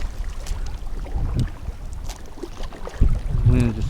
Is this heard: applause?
no